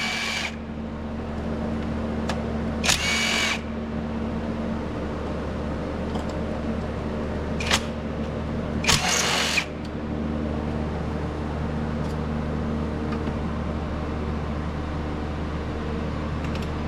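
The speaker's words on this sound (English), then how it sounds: "Go ahead and remove these 3 8mm bolts." Three 8mm bolts backed out of a Ford Ranger thermostat housing with a power tool: several short buzzing bursts separated by pauses, over a steady hum of engine-bay or fan noise.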